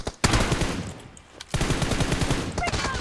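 Rapid automatic gunfire in PUBG Mobile, a loud burst at the start, a brief lull, then a sustained stream of close shots with quick rhythmic reports.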